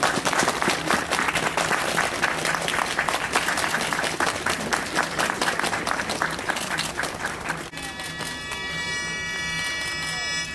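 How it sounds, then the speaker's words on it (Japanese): Guests clapping warmly at a wedding ceremony after the ring exchange, dense sustained applause for nearly eight seconds, then giving way to a quieter stretch with sustained musical tones. "どうぞ温かい拍手をお願いいたします"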